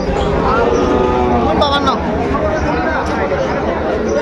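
Young bull calves at Ambari cattle market in Dinajpur, with a brief moo rising above a dense crowd of chattering voices and market bustle.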